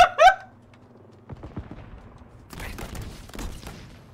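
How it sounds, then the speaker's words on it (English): Video game gunfire in Halo Infinite Firefight: a loud close burst at the start, then scattered shots and a dense, rattling stretch of rapid fire that builds toward the end with low booming thuds. "What's shooting at me?"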